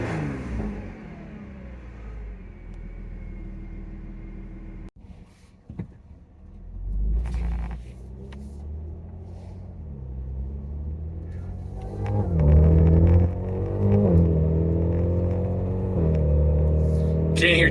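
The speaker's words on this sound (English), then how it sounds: "Can't hear too much over the exhaust, but still warming up." An Audi S5 fitted with a cold air intake idles while warming up, its exhaust holding a steady, deep droning rumble that briefly dips, then swells louder and rougher toward the end.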